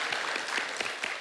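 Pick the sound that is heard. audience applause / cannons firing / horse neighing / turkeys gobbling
audience applause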